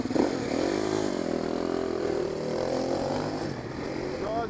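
Motorcycles riding along a highway on Hawaii Island, a continuous loud engine drone with shifting pitch and wind rush, the roar steady and close throughout.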